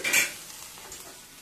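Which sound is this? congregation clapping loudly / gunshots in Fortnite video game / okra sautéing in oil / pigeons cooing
okra sautéing in oil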